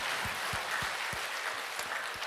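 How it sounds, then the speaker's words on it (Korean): A church congregation applauds during a Sunday worship service: a continuous wash of clapping from many people in a large room, with a few low thuds at regular intervals under the applause. "하나님께 영광의 박수 드립니다."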